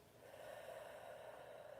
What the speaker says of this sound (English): Take 3 intentional breaths right now to reclaim your soul. And a full breath is in through your nose.